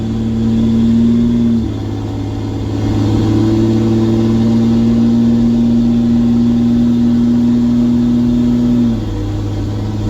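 A Ram 2500 pickup nicknamed Bertha, towing roughly 9,500 lbs after a clogged fuel filter, pulls hard with a loud, close engine drone that holds steady and then drops pitch at two gear shifts, no talking.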